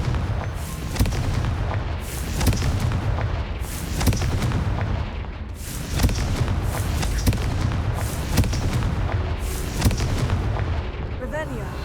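Incendio and Confringo fire spells are cast in the Hogwarts Legacy video game, a steady run of booming, crackling blasts that repeat every second or two under continuous combat noise.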